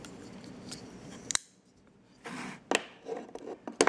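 A folding utility knife from a Hyper Tough four-piece box cutter set, its blade flicked open with a few sharp metallic clicks and snaps separated by brief handling rustle and a short quiet gap.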